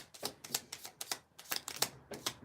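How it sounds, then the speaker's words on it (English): Small tarot cards shuffled by hand in quick, uneven flurries of crisp papery slaps and riffles, close and fairly quiet, with no talking. "These little cards are so hard to shuffle, especially with my man hands"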